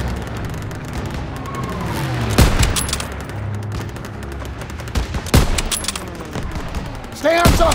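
Heavy anti-aircraft gunfire in a Call of Duty WWII courtyard battle: loud booming shots land around the two-, five- and seven-second marks over constant battlefield rumble, with voices mixed into the din.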